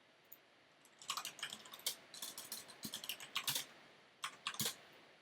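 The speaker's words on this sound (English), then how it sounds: "I'll show you to see what keyboard we're using. That's Corsair K95," Typing on a Corsair K95 RGB mechanical keyboard with Cherry switches: quiet, irregular bursts of crisp key clacks, some in quick runs and some on their own, over a soft background hiss.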